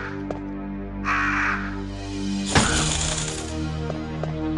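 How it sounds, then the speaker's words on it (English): Crows caw repeatedly in the Resident Evil: Director's Cut video game, loud harsh calls over a steady droning game soundtrack, with a burst of heavier in-game noise partway through. "You stupid birds, you can't do shit to me."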